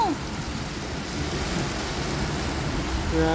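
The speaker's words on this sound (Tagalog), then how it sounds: "Ah, malakas ng ulan guys." Heavy rain pours steadily in a dense, loud wash of noise, with a faint whistling tone at the start and end.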